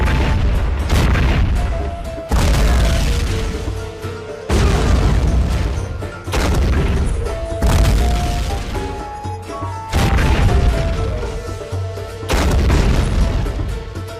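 Six heavy cannon blasts boom one after another at roughly two-second intervals, each followed by a rumbling, fading echo.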